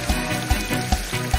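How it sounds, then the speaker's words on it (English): A toy water rocket hooked to a running tap sprays water in pulsing bursts, four rhythmic surges over a continuous hiss of rushing water, close and moderately loud, with no talking. "Wow, look at it go. It's bursting like a geyser."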